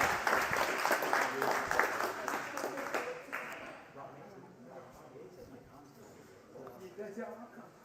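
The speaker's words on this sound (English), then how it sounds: "can we give a great round of applause to Matt, our bartender, who's taking care of us tonight?" Audience in a bar applauding their bartender at a politics talk night, clapping loud at first then thinning out under voices and crowd chatter.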